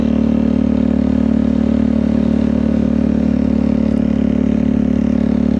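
A motorcycle ridden at night gives a loud, steady engine drone at constant speed, close and continuous, with a faint clatter and no voices.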